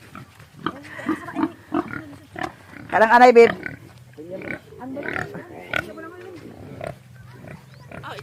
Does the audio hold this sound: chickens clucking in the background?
no